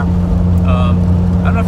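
Whining rear differential of a 1JZ VVTi-swapped Mustang on a daily drive, a steady tonal whine rising and falling over low engine and road rumble, with a voice talking over it.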